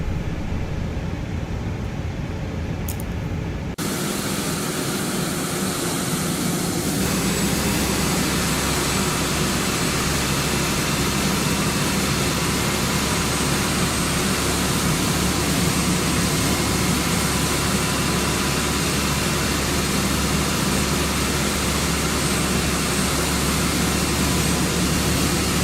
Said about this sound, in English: let's go ahead and listen to engine number 2 start up from the outside